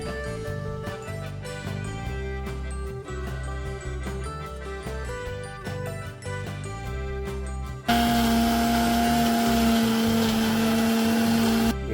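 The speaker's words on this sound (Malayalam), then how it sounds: "കുക്കുംബറും ക്യാരറ്റും ബീട്രൂട്ടും കൂടി ഞാൻ മിക്സിയിലിട്ട് അരയ്ക്കാൻ പോവാണ്" A mixer grinder blends cucumber, carrot and beetroot, cutting in loudly about two-thirds through with a steady, dense whirring drone that replaces the earlier music and continues to the end.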